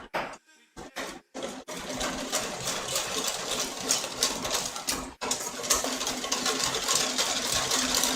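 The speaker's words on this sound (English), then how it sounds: "add a quarter cup of milk. Then whisk that together." Whisking a quarter cup of milk with cornstarch in a bowl at home, a continuous quick scraping and tapping rhythm of the whisk that runs steadily for several seconds after a few short pauses at the start.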